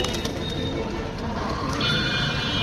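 Pigeons at the Kaptan Bazar pigeon market, with soft cooing mixed into a dense, steady crowd bustle; the birds sound close but partly buried under the market noise.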